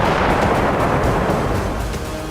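Artillery shelling and explosions in Donetsk during wartime, heard as a loud, dense, continuous roar of booms and rumble with no clear gaps, sustained at a steady level throughout.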